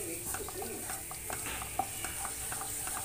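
A spoon stirs a flour and milk pasta mixture in a pan over a low flame, giving soft, steady scraping and light sizzling at close range, with faint background chirps.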